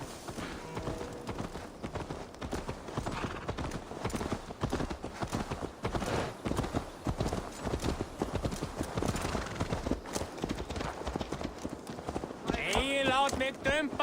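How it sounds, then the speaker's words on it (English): Horse hooves clip-clopping in the video game Assassin's Creed Valhalla, a steady trotting rhythm running throughout beneath continuous spoken dialogue, with a brighter burst of game sound at the end. "Let's return the horse."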